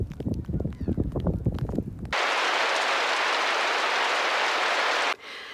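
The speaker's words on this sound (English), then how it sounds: "It's a really, really rainy day today" Heavy rain on a rainy day pours as a steady, dense hiss for about three seconds, then cuts off abruptly. Other brief sounds come before it.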